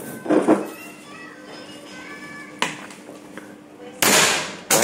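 A PCP bullpup air rifle of the Cricket type fires with sharp, close cracks: a lighter shot partway through, then two louder reports near the end, after a brief voice at the start.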